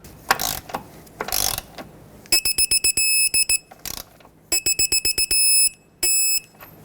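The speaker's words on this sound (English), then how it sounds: "Torque this mounting nut to 33 foot-pounds." A torque wrench ratchets while tightening a control arm mounting nut on a 2006-2010 Hyundai Sonata, producing rapid bursts of sharp metallic clicks in short series, close and loud, with a few rustling handling noises between them.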